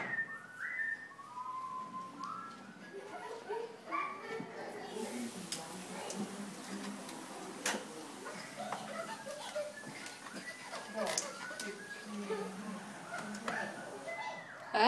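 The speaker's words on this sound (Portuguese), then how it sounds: "sabe assobiar?" A child whistles in short, wavering tones at home, with light laughter and other voices chattering around the whistling.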